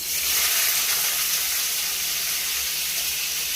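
Spring onion bulbs frying in hot oil, giving a steady, bright, continuous sizzle that holds at an even loudness throughout, with no talking.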